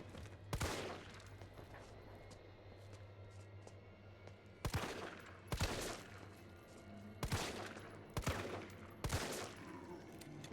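Gunshots in Resident Evil 3 Remake ring out as one early shot, then a rapid string of sharp, punchy blasts spaced a second or so apart, loud over a quiet humming game backdrop.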